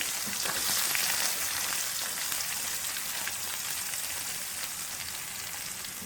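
Chopped onions sizzle in hot oil in a pan along with whole pepper, a steady close hiss and crackle of frying with no talking.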